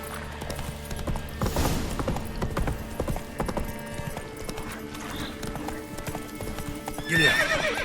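A horse in The Witcher 3 gallops with rapid, steady hoofbeats over game music, then gives a loud, close whinny at the end.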